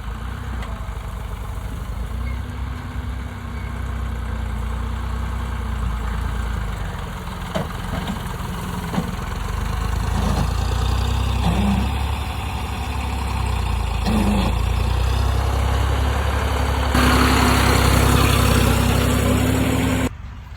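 Tractor engine labouring as it sinks into wet rice-field ground, a steady idling chug that revs up in several surges, louder toward the end before it cuts off abruptly.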